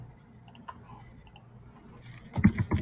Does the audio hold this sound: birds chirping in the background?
no